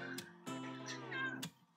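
A house cat meows softly several times in quick succession, drawn-out tonal cries with a faint, distant quality and nothing else in the background.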